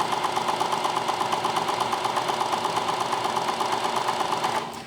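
A Singer 4432 sewing machine, freshly oiled and greased, runs steadily at speed with a fast, even mechanical whir and rhythmic clatter, close and fairly loud, before winding down at the end.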